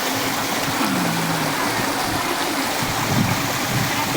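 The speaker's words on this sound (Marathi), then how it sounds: "झुळझाळ्या नद्या" A river stream on a hill flows steadily, giving a continuous rushing wash of water that stays close and fairly loud throughout.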